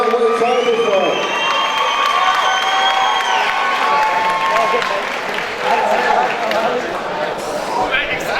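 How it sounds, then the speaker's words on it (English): A crowd at the FCC 13 amateur lightweight title fight cheers, shouts and applauds continuously, a loud, dense roar of voices and clapping with an announcer's voice carrying over it. "Ladies and gentlemen, please give it up for the next FCC amateur lightweight title fight"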